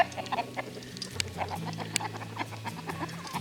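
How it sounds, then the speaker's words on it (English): A gray Ameraucana rooster squawks and clucks in agitated bursts after being caught in a net, close and fairly loud, with scuffling and faint voices around. "Rooster has been caught."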